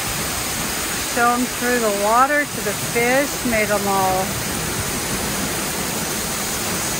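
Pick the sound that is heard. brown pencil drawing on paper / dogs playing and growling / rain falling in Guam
rain falling in Guam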